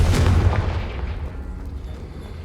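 A Confringo spell blast in Hogwarts Legacy goes off with a loud, booming burst that fades into a rumbling tail lasting a couple of seconds.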